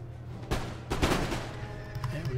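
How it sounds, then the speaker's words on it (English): Musket volleys crackle through the din of a Napoleon: Total War battle, with sharp broadband bursts near 0.5 s and a denser ragged volley around 1 s over a steady low battlefield rumble. "Nice volley in there."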